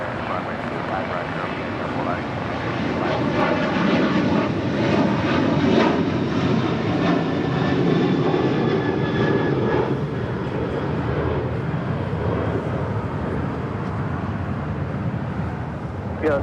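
A jet airliner rolls for takeoff on runway 25 Right at LAX, its engines a loud, steady roar that swells and holds throughout, with a faint radio voice talking underneath.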